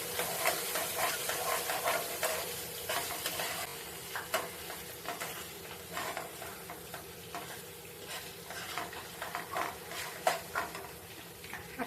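Garam masala spice mix sautéing on a tawa for chilli garlic chicken: a steady close sizzle under repeated scraping stirs of a spoon against the pan, with no talking.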